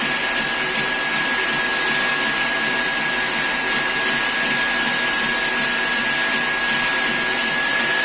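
A 500 lph RO water purification plant running on its motor gives a loud, steady mechanical whir with a fixed high whine, unchanging throughout, close and without voices.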